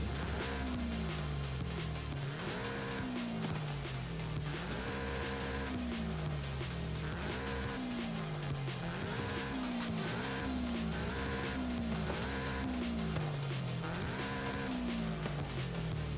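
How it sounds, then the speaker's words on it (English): A 2013 Toyota 86 engine in the racing video game Forza Horizon 5 roars continuously, revving up and shifting gears over and over in a steady cycle, loud and close with no talking. "we're just gonna listen to the sound of this engine at its finest."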